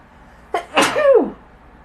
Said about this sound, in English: Oh, I gotta sneeze again.